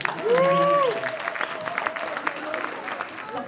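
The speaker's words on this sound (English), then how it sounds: "give yourselves a nice round of applause" An audience at a show applauds in a room, steady scattered clapping running throughout, with a sliding whistle-like tone and a voice over it near the start.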